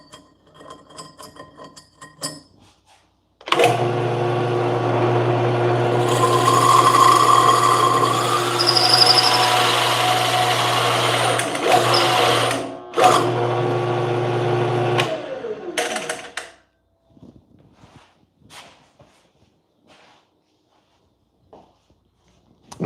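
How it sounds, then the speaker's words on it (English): An underpowered drill press cuts into plywood with a loud, steady motor drone and grinding, sustained for about thirteen seconds after a few light taps, wavering near the end before stopping abruptly and leaving faint clicks and handling sounds. "It doesn't help that this drill press is way underpowered too."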